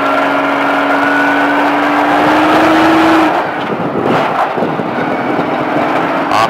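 An exotic car at a track driving experience revs hard and close, its engine note climbing steadily for about three seconds before the throttle lifts, then a rougher rumble and a fresh build.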